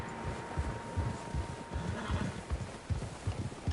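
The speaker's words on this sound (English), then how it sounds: "Horses, quite a few of them." Many horses' hooves clip-clopping in a steady trotting rhythm in a video game, a busy group passing close by with a faint tone and ambient noise behind.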